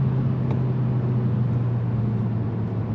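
2023 Kia Forte GT engine droning inside the cabin while driving, a steady low hum with a broad road-noise wash, constant and even throughout.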